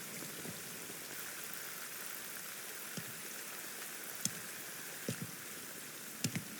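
Steady video game rain, from Metal Gear Solid Delta: Snake Eater, hissing and pattering across a wide band, with a few sharper drips or thuds standing out near the end.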